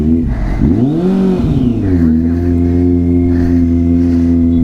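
A Kawasaki Z800 motorcycle engine revs up and then settles into a steady, loud, close idle.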